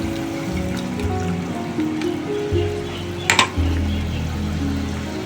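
Mustard paste with green chilli and salt is poured into a pan for hilsa fish curry, giving a soft wet trickle over steady kitchen hum with a brief clatter near the end; no voice is heard.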